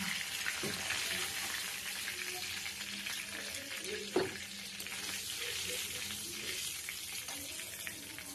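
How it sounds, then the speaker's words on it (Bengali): Fish frying in oil in a pan gives a steady, close crackling sizzle with a single sharp clink partway through. "মাছটা আমার ভাজা হয়ে গেছে।"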